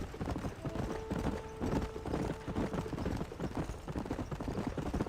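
Horse hooves clip-clopping at a steady trot in Red Dead Redemption, rhythmic close clops with faint game ambience and a brief thin tone in the background.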